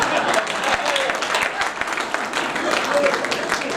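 An audience at a Holi comedy poetry gathering claps loudly and continuously, a thick wash of hand claps, while a voice carries on faintly underneath.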